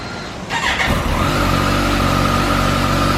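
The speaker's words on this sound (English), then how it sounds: "To do a cold start on this to see what the stock system sounds like" A 2024 Kawasaki ZX-14R Anniversary Edition with stock exhaust cranks and fires up from cold, then settles into a loud, steady idle with a deep throbbing rumble, close by.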